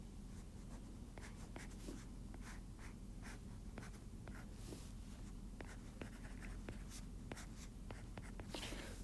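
Pen scratching steadily across paper while chemical structures are sketched by hand, with a run of short, sharp strokes over a constant low background hum. Nobody speaks.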